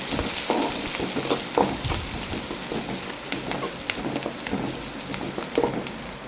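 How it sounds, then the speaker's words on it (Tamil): Onions sautéing in oil for a spicy village-style kuzhambu, a steady crackling sizzle with scattered pops and spits throughout, close and continuous with no talking. "வெங்காயம் நல்லா வதங்கட்டும்"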